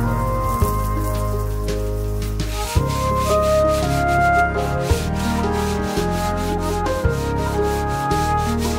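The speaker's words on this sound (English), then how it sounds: "I'm now sanding the wood all over our place," Repeated scraping strokes of sandpaper on wood rasp in a steady rhythm, played under a continuous tonal musical background.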